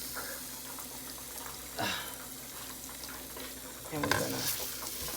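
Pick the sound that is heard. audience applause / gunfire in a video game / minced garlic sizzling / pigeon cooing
minced garlic sizzling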